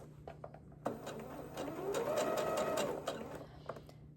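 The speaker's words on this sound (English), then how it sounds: "So I'm just going to stick my practice piece up under here, do a few stitches" A sewing machine runs a short burst of stitches through a practice piece of fabric, a close whirring hum that lasts about two seconds, with soft clicks before and after.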